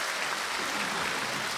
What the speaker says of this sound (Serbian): Hoću jedan aplauz za najlepšeg muzičkog premijera